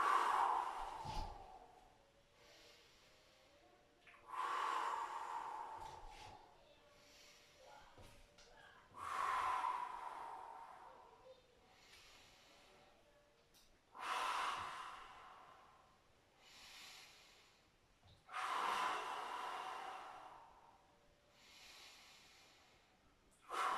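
Slow, deep breaths in and out during a stretching session, about five long exhalations spaced a few seconds apart, close and soft with quiet pauses between them.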